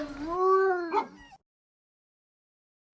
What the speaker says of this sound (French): Tu entends ce bruit? On dirait des chiens.